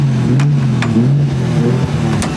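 A Mitsubishi Evo 5 engine pulls under acceleration with a loud, steady low drone that climbs gradually in pitch, heard from inside the car with no talk.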